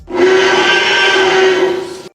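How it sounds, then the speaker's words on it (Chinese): A synthetic dinosaur roar built from a lowered baby elephant call layered with lion and crocodile roars, heard as one loud, sustained, tonal bellow of about two seconds that fades at the end, with no other sounds. "这段声音是由经过降低大象宝宝的吼叫，"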